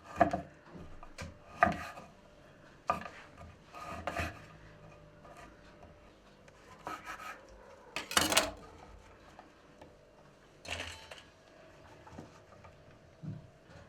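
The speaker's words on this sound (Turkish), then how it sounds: "Tandır ekmeğimizi böyle kesiyoruz." A knife saws and chops through crusty tandoor bread on a board in irregular strokes, crisp crackling cuts with short pauses, close up.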